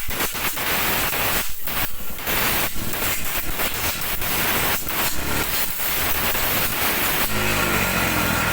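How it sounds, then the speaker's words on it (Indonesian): Compressed air blasts from a compressor nozzle to clean parts of a Honda Verza motorcycle engine, a loud close hiss in repeated bursts with brief gaps, ending in a softer steadier tone. "kita bersihkan ini pakai kompresor ya, supaya kotorannya nanti tidak masuk ke dalam mesin ya."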